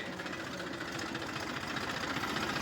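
A tractor engine idles steadily with a close, continuous mechanical chug and rattle that holds even for the whole stretch, with no talking over it.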